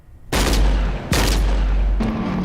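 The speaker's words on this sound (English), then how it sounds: "Proteus discharged his weapon, Captain." Loud, close weapon fire from the film The Ultramarines, three heavy blasts in quick succession, each a sharp boom with a long, dense roar, and no speech.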